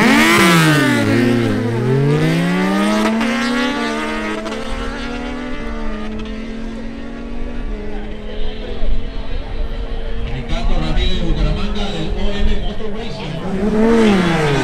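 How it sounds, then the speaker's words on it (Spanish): Kawasaki Z900 of the OM Motor Racing team from Bucaramanga roars loudly in a drag race, its engine pitch sweeping down and climbing again before holding a steady, hard-driven drone, with voices mixed in underneath. "Z900 de la escudería OM Motor Racing de Bucaramanga"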